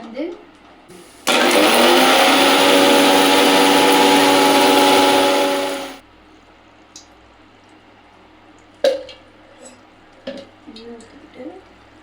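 A kitchen mixer grinder whirs loudly for about five seconds as roasted spices are ground into powder for chicken curry, then cuts out, followed by faint clicks and handling sounds.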